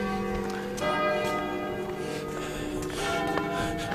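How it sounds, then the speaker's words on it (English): Several church bells in Oxford chime at once, overlapping sustained tones ringing steadily and fairly loud throughout. "I can hear several chimes going off at the same time."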